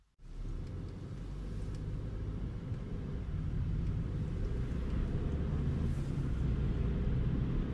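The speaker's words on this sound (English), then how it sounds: "So let's have a test drive in the new Volkswagen T-Roc." Volkswagen T-Roc 2.0 TSI petrol crossover SUV with a 190 horsepower engine driving, heard from inside as a steady low engine and road rumble that holds constant throughout, with no talking.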